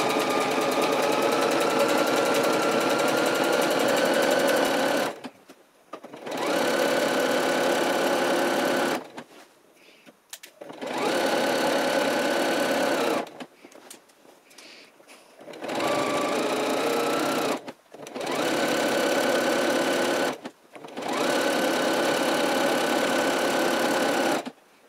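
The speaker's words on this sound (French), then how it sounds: "Sur tout l'entrejambe, on va réaliser plutôt une couture avec un point stretch." A sewing machine runs a stretch stitch along the crotch seam of Camille trousers, in five steady bursts of several seconds each, separated by short pauses, loud and close with no talking.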